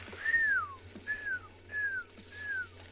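A person whistles an imitation of an African grey hornbill call outdoors on a South African morning safari: four clear, separate descending whistled notes at a steady pace, moderately loud with no talk.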